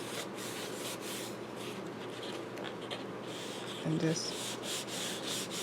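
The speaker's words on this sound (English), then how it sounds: "burnish it like that." Folded paper from Elizabeth Craft frame die art being burnished, soft repeated rubbing and scraping strokes close by, with a few quiet spoken words.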